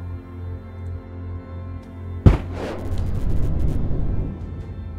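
A rocket fires in the space strategy game The Darkest Star: one sharp, loud launch crack breaks a low droning hum, then a roaring, hissing trail keeps going after it.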